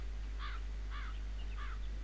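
A crow in the video game Infestation: Survivor Stories gives three evenly spaced caws, moderately distant, over a low steady hum, with no voices.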